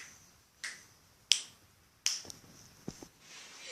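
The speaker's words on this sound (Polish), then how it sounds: "trzeba dwa razy pstryknąć" Four or five sharp finger snaps spaced out over a few seconds, crisp and fairly close against a quiet room, each a distinct isolated click.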